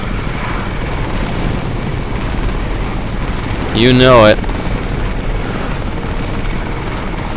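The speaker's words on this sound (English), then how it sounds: "Not again, a chopper. You know I hate those things." Helicopter in the video game Crysis, a continuous rotor thrum with a steady whine that runs through the whole stretch, while someone speaks briefly over it midway.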